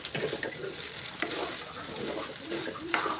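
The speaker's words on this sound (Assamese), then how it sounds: "এতিয়া আকৌ এবাৰ হিলাই দিওঁ।" Vegetables for Schezwan fried rice sizzle and hiss in a hot pan while being stirred, with scraping strokes and clinks of the utensil breaking through the steady frying noise, close and fairly loud.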